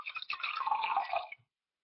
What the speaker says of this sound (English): If I took my purple water and I pour it into another container